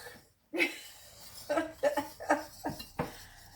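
Dry ingredients for sweet potato bread get whisked in a bowl, a string of quick clinking and scraping strokes against the bowl after a short silence, close and moderately loud, with a faint chuckle or breath between them.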